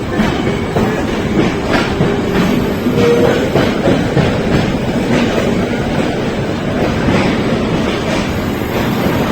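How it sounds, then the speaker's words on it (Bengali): Sealdah–Puri Duronto Express running after leaving Kharagpur, heard from inside a carriage as a loud, continuous rumble with steady clickety-clack of wheels over rail joints throughout. "তারপর ট্রেন খড়গপুর ছেড়ে দিল"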